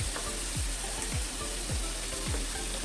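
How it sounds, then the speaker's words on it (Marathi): Chopped onion fries in a pan for pav bhaji, giving a steady close sizzle with regular scraping strokes of a spatula repeating about twice a second. "आणि आता टाकते कांदा. कांदा मेन चांगला परतून घ्यायचा लालसर होईपर्यंत"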